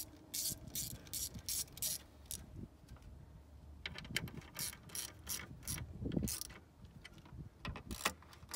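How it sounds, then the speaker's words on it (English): Screws are driven back into the crankcase vent cover of a 2017 Dodge Ram 6.7 Cummins, giving quiet irregular ratcheting clicks in bursts, close by and faint. "we'll put our remaining four screws back in the four holes"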